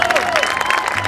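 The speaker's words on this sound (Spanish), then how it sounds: "¡Fuerte el aplauso para recibirla!" A crowd claps and cheers in a dense burst of applause, with a brief musical tone sounding through the clapping.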